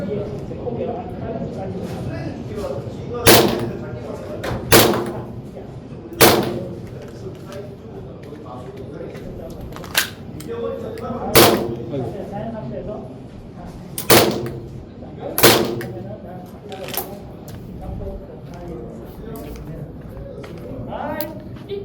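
A borrowed gun fires at a shooting match, with about seven or eight sharp, loud cracks at irregular intervals while people talk nearby.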